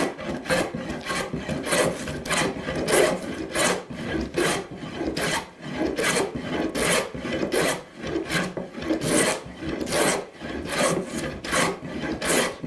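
A hand tool cuts thick wood shavings in a woodworking shop, making steady, close, rhythmic rasping strokes, each about half a second long, repeated over and over with short pauses between them.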